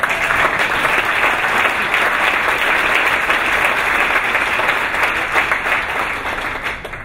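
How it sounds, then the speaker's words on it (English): Audience applause fills the hall at a governor's address, a dense, sustained wash of many hands clapping that stays loud throughout and thins slightly at the very end. "And you can applaud for that."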